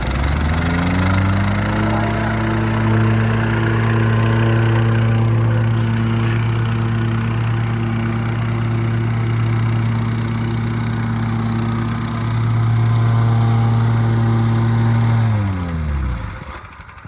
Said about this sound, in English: So as you turn this up, past 3/4, the plate will start to work.